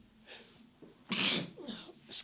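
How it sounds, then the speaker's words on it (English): A single sharp human sneeze bursts out at close range, preceded by a soft intake of breath and followed by a brief quieter exhale, with no talk. "I'm sneezing here"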